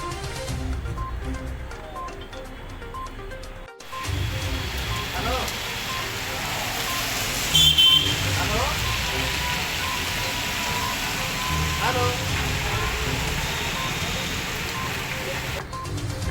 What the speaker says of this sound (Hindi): दोपहर बाद पूर्वांचल समेत वाराणसी के कई हिस्सों में बारिश हुई